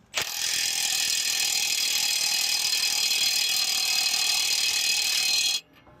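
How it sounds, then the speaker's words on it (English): Ratchet with a 24 mm socket tightening a steering track bar nut on a 2013 Ford F250 6.7 Powerstroke, a fast continuous clicking run that stays loud and close for about five seconds before stopping abruptly. "Next, grab your 24. I'm gonna tighten that nut."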